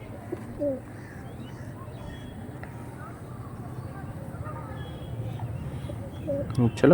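Short-sized Andhra Kalsira pigeons coo softly and intermittently at close range over a steady low background hum, with a louder burst of activity near the end.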